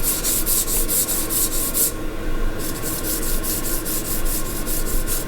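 Rough, rhythmic rubbing over old, oxidized car paint on a 1983 Mercedes 300TD, a close, loud gritty scrape in quick repeated strokes with a brief pause near the middle.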